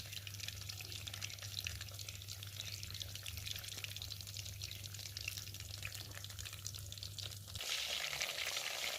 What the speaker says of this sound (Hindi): देखिए माशाल्लाह कितनी ज़बरदस्त फ़िश फ्राई हो रही है।